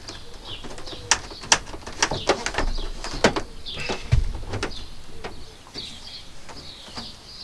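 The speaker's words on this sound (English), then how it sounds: "bird was coming in" Bird sounds near a VW Crafter van during a solar panel fitting, with sharp clattering knocks and faint coos scattered over a steady outdoor background, fairly close.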